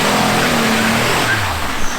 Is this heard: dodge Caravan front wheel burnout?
yes